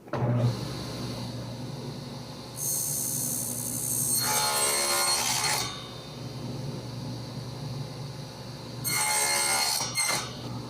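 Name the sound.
saw cutting a dado in wood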